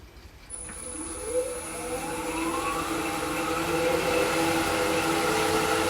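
A wood lathe spinning a laburnum bowl at 900 RPM starts up with a rising whine, then settles into a steady mechanical hum and whir that carries on without pause.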